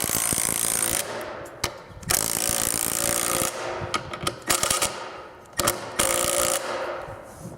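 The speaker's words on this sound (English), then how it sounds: "Just gonna get them both started before I tighten them down." A cordless Milwaukee nut driver tightens kit-supplied bolts on a DIY auto-reset popper plate target stand, whirring loudly in several long bursts separated by short pauses, close by with no talk.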